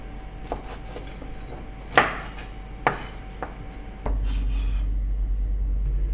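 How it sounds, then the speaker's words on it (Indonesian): Bird's eye chili peppers being chopped with a knife on a board, a few distinct, irregular taps spaced out over several seconds, close and fairly crisp, with a steady low hum underneath. "Kita potong cabai rawitnya."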